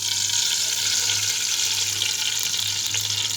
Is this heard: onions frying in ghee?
yes